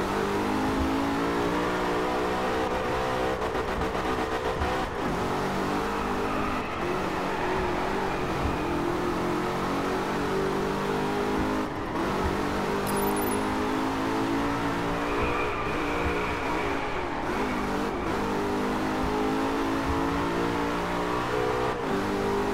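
Racing car engines in the driving game DRIVECLUB rev loudly and continuously, with rising and falling harmonic whine, shifting pitch through gear changes and occasional faint tire squeal throughout.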